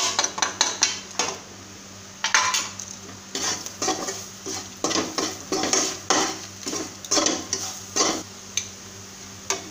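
A spoon scrapes and clanks against a pan while coriander powder and garam masala are stirred into a bitter gourd stuffing, giving repeated close metallic knocks and scraping strokes in a steady rhythm with no talking.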